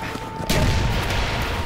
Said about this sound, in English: all this shaking and explosions